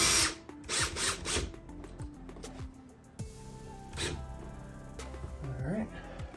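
Power drill driving self-tapping screws into a storm door frame near glass, short whirring bursts with pauses between, close by, with brief talk and clicks in between.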